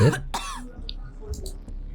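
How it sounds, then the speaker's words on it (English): A couple of harsh, close coughs with throat clearing from a video game character, followed by quieter rasping, wheezing breaths and faint clicks. "a wheezing sound can be heard mixed in amongst the coughing and they seem to be struggling to breathe."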